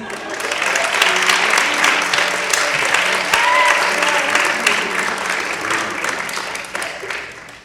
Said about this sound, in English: If it isn't too much trouble, would you mind applauding?